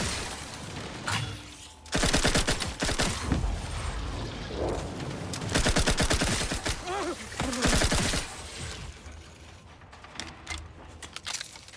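Gunfire in the video game The Outer Worlds 2, with loud rapid automatic bursts in several clusters, some mechanical clicks and clatter between them, and quieter gaps.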